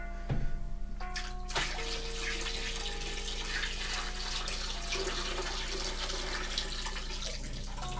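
Hot water gushes steadily from a tap, a continuous splashing rush after a brief clunk at the start, with no talking.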